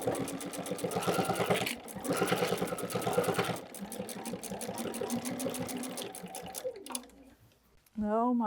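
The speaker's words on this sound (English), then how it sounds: "And you're just going to be stitching through all the layers." Sewing machine stitching through all the layers of a quilt, fast rhythmic needle clatter in bursts with brief pauses before stopping, followed by a voice speaking at the end.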